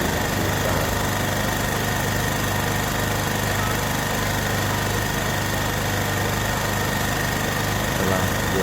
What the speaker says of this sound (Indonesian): Setelah genset menyala